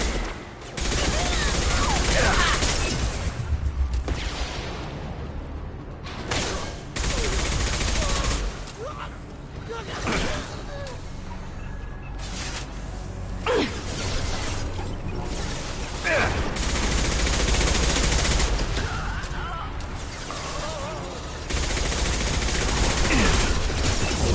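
Sustained gunfire in the video game Mass Effect Legendary Edition on PlayStation 5: loud, dense bursts of automatic fire and booming shots that keep going, with brief lulls and speech mixed in.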